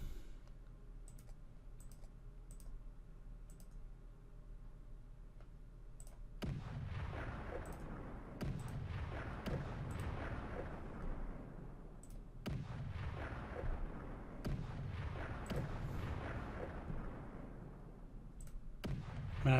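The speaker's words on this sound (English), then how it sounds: "I'm just shelling left and right here wherever I can." Artillery shelling in the Cauldrons of War: Stalingrad strategy game, repeated deep booming blasts that each decay slowly, arriving every few seconds and layered over scattered keyboard and mouse clicks, with no talk.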